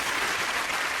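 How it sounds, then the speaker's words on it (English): Applause sound effect on a radio show, a brief, even wash of crowd clapping at moderate level with no voices over it. "Why can't I just get the applause?"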